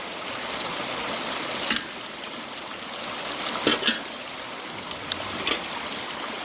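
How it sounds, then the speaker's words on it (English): Water runs steadily through a gold mining sluice loaded with black sand, a constant close rushing wash broken by a few sharp knocks and clatters. "I've let the sluice run for a little while to try to clean out all the other stuff that I don't want in there."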